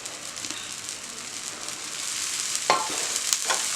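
Parotta made from maida and wheat dough frying on a hot tawa, giving a steady, close sizzle with soft crackling, and a few sharper spatters near the end.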